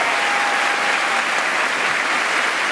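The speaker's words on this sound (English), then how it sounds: "Let's give them another round of applause." Sustained audience applause at a school convocation, honouring a dance performance: dense, even clapping from a large crowd, steady and loud throughout with no pauses.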